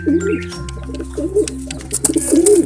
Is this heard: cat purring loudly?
no